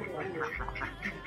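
Ducks on a Philippine farm quack in a quick run of nasal calls, close and fairly loud, with voices murmuring in the background.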